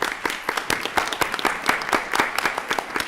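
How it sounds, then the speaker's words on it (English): Attendees at a board of education meeting clap in a lively round of applause, individual hand claps distinct and close, steady throughout. "Round of applause."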